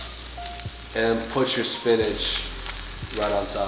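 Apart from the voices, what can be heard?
avocado oil sizzling in a frying pan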